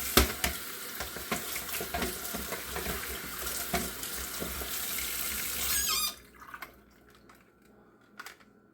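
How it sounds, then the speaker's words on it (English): Tap water runs loudly into a sink while something is rinsed, a steady close splashing rush that stops abruptly, followed by a few faint clinks and drips. "And rinse this off."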